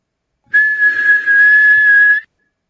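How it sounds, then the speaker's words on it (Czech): A single person whistles one steady, unwavering tone for about two seconds, loud and close, with no talking around it. "Tak pokud byste jenom zapískali"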